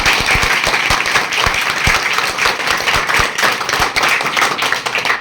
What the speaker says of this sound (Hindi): तो एक बार आप लोग उन सर के लिए जोरदार ताली बजा दें